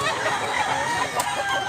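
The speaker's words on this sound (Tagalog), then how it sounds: "Klaseng manok." Chickens at a rooster sale in Mantalungon, Cebu, clucking and crowing amid dense, continuous farmyard noise, loud and close with no clear pauses.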